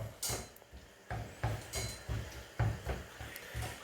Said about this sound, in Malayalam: ചൈന ഗ്രാസ് നന്നായിട്ട് മിക്സ് ചെയ്ത് കൊടുക്കാം.